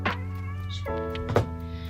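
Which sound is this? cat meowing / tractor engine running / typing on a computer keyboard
cat meowing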